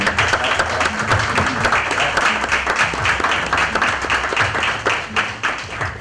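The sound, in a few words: applause for the media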